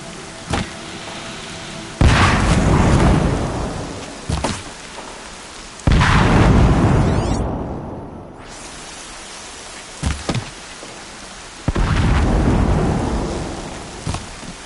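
Heavy rain pours steadily while loud thunder cracks and rolls several times, each burst fading slowly, close and booming, in the video game Horizon Zero Dawn.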